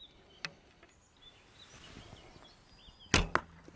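An arrow is loosed from an Odin Viking bow outdoors and strikes a target, with a sharp snap of release followed moments later by a crisp thwack of impact, amid faint background ambience.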